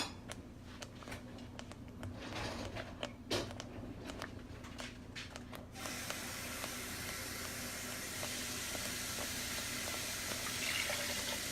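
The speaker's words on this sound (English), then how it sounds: "I'm going to, of course, add more water." Water is poured into a baking pan of smothered beef tips: a steady, faint splashing hiss of liquid that starts after some scattered creaks and clicks. It continues evenly to the end.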